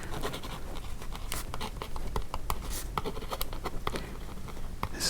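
Pen scratching and tapping on paper while checking off 1991 Topps baseball cards on a checklist, a close, steady stream of small strokes and marks with no talking.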